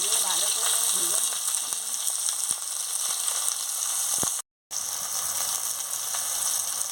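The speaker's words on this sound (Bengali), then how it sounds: "আমি এবারে পেঁয়াজ কুচিটা দিয়ে দিয়ে ভালো করে ভেজে নিচ্ছি" Chopped onion sizzles in hot oil in a pan for a mutton curry, a steady bright hiss with a few clinks and a brief dropout, under soft talk.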